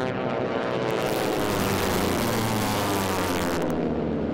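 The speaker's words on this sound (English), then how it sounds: "you hear that crackling sound. The low rumble's that Pratt Whitney radial engine." A T-6 airplane's Pratt & Whitney radial engine gives a loud, steady low rumble, overlaid with a continuous crackle from supersonic propeller tips, as it passes close by at the National Championship Air Races.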